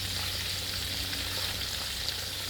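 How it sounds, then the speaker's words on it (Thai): Marinated pork frying in a pan, giving an even, continuous sizzle with a low steady hum beneath, heard close and without talk. "วิธีการทอดให้นุ่มอ่ะต้องทอดแบบนี้นะครับ"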